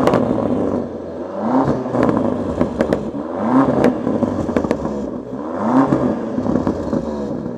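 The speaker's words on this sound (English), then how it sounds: "this is what the Range Rover Sport SV sounds like" A 2024 Range Rover Sport SV P635 engine runs steadily at close range, rising in a few repeated revving surges with a smooth, fairly refined tone and some clatter and crackle, with no talking.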